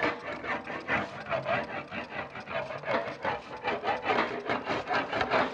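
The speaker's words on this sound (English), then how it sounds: "So I'm using the shim on the English wheel, and I'm just going to roll this with a light pressure." A sheet metal fender flare being rolled on an English wheel with a shim under light pressure, a continuous rhythmic rasping whir pulsing with each back-and-forth pass, close and steady.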